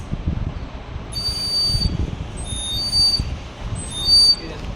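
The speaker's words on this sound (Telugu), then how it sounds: "వాటర్ పోసుకొని ఊరితే బర్డ్ ఎలాగైతే సౌండ్ చేస్తుందో అలా వస్తుంది" Three short warbling, trilling bird-like whistles from a water-filled clay whistle sound one after another at moderate volume over a low background rumble.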